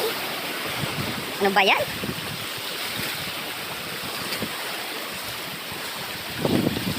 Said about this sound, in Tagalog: nilalakas na yung alon